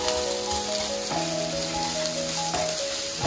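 Chopped onions fry and get stirred in a pan of garlic while cooking spicy Laal Maas, a steady close sizzle with occasional stirring scrapes over a sustained tonal hum throughout.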